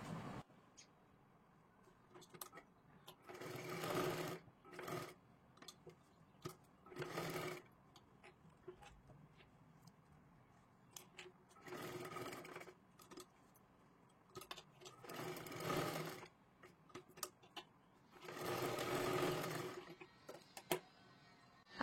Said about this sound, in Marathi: इकडची सुद्धा बाजू अशा पद्धतीने आपल्याला हे पलटी करून घ्यायचं आहे आणि व्यवस्थित शिलाई मारून घ्यायची आहे